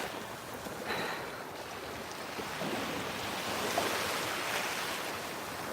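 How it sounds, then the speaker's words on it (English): Gentle ocean waves washing onto a shore with clear blue-green water, steady soft surf hiss and light wind on the microphone, small swells rather than big breakers, no talk. "so that's why we don't get super big waves here"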